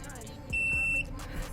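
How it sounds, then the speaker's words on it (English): A single steady electronic beep from the bedroom power switch of a Heartland Cyclone 4007 RV, a sustained high tone lasting about half a second, heard up close over low background noise. "there's that beep noise that I didn't want"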